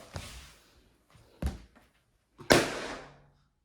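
Balloons popped by children at play: three sharp bangs spaced a second apart, the first two softer and the last loud and close with a short ringing decay, in an otherwise quiet room.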